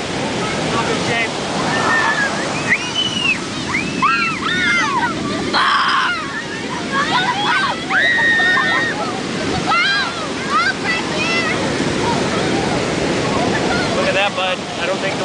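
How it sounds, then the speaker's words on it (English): Ocean waves break and wash up onto a beach with a continuous loud roar and wind buffeting the microphone, while people shout and talk excitedly over the surf. "look at the waves"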